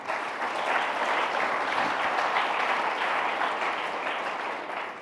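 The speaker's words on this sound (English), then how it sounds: "So give them a round of applause." Dense, steady applause from a large audience at a debate, filling the whole span without a break.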